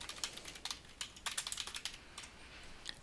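Fast, uneven keystrokes on a computer keyboard, a short burst of typing heard close and fairly quiet, with no voices.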